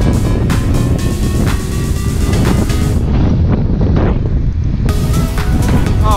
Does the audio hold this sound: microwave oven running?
no